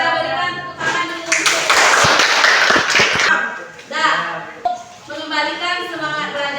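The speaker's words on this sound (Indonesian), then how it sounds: "Kita berikan tepuk tangan dulu." Classroom audience at an Indonesian teacher-training lesson clapping hands together in a loud burst of a couple of seconds, with a teacher's voice and other talk before and after.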